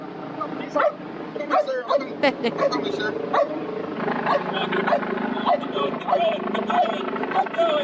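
A police dog barks repeatedly and excitedly in short bursts amid loud background noise, with people talking over it.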